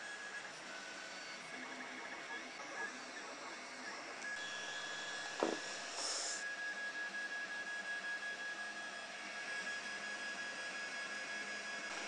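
An Ormerod 3D printer runs quietly with a steady whirring fan and faint stepper motor whines, a brief click midway, and a thin high tone sustained through most of it.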